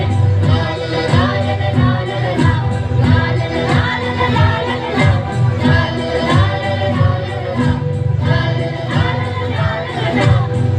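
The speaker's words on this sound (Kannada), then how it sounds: "ಜನತಾ ಶಾಲೆಗೆ ಚಪ್ಪಾಳೆ, ಚಪ್ಪಾಳೆ, ಚಪ್ಪಾಳೆ." Audience at a Janatha school annual event clapping in rhythmic bursts, loud and steady, mixed with music and an amplified voice leading the cheers.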